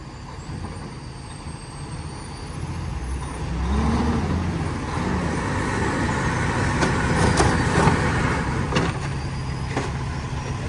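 An end dump truck reverses through deep snow during a record snowfall year in Mammoth, a steady heavy diesel drone that swells partway through, with a brief hiss and knocks near the end.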